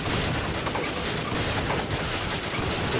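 Dense, continuous gunfire in the action shooter Resident Evil 5, loud and close, a rapid unbroken barrage of shots with no pauses.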